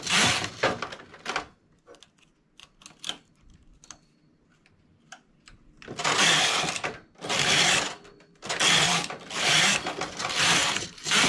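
A knitting machine carriage is pushed across the needles while a lace piece with a round neckline is made, giving several loud rattling sweeps in a row after sparse ticks and clicks of hand adjustments.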